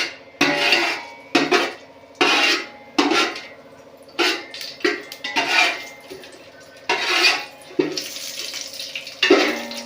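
Ingredients for mushroom pulao are stirred in a cooking pot with a metal utensil, making close, loud, rhythmic scraping and clinking strokes separated by short pauses.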